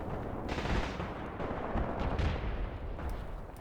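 Incendiary artillery rounds firing at night in Graviteam Tactics, a dense, continuous rumble of heavy gunfire and booming blasts with repeated sharp reports, loud and sustained without pause.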